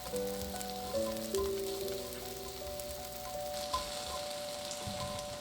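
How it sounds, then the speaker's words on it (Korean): Green onions sizzle and crackle steadily in an oiled pan over medium-low heat, with occasional stirring scrapes over a soft background music tone. "중약불에 파부터 볶아주세요."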